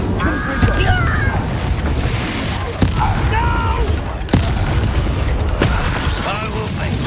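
Incendio fire spell cast in Hogwarts Legacy, with sharp bursts and booms amid dense game music and combat noise, loud and close, with voices talking over the action.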